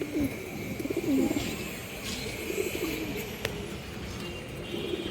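Silver steel-coloured pigeons coo repeatedly in low, rolling phrases, close and fairly clear, with other birds faintly around them.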